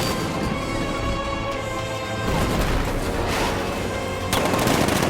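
Heavy gunfire and booming 60mm tank cannon blasts in Batman: Arkham Knight pound continuously, dense and loud, with sharper bursts punching through around the middle and end.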